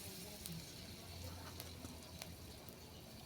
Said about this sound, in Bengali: এরপর কড়ার মধ্যে দিয়ে দিলাম শুকনো লঙ্কা